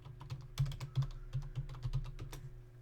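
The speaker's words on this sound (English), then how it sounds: "what I'm doing here is I'm just typing jump to" Fingers type a command on a computer keyboard during Minecraft multiplayer play, a quick irregular run of close, crisp key clicks with a few heavier strokes, over a faint steady hum.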